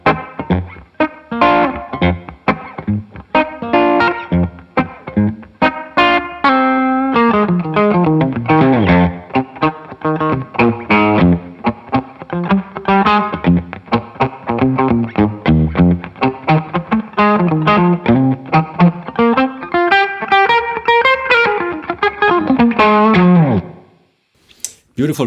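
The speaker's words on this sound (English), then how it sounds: "I have a room reverb on side B" Electric guitar played through the room reverb side of a Carl Martin HeadRoom pedal, a loud, continuous melodic line of picked notes and sliding phrases with a roomy ambient tail, ending abruptly near the end.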